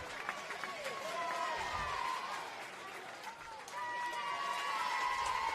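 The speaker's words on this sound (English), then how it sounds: "Now you can hear that applause." A crowd claps and cheers at an Australia versus Solomon Islands football match, a steady, moderately distant wash of applause under a commentator talking.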